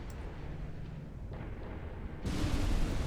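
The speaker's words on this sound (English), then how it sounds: "Two torpedo hits, another dud." Torpedo hits explode on a ship in the naval battle game Ultimate Admiral Dreadnoughts: a muffled rumbling of distant blasts swells into a louder, broad roaring burst near the end.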